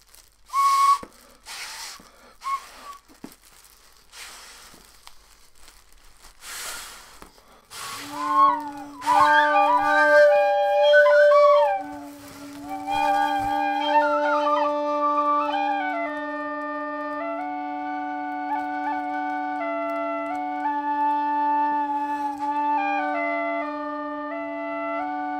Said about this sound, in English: I'm gonna retune this low whistle to be an A drone and we'll try the A the A whistle in here